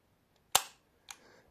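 Function-check trigger pulls on a VZ61 Skorpion, two sharp metallic snaps about half a second apart, the first louder, close by in quiet surroundings.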